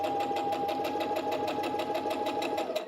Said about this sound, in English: Go ahead and sew down.